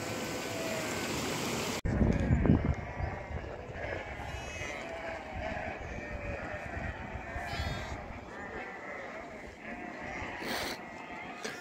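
A large flock of sheep and goats bleats continuously outdoors on a mountain pasture, many overlapping calls near and far over a rushing, water-like background hiss, with a loud thump near the start.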